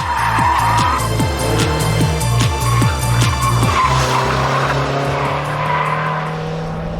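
Car tyres squeal loudly as the tail slides wide, close and continuous, over a revving engine whose pitch rises and drops in quick steps before settling into a steady drone.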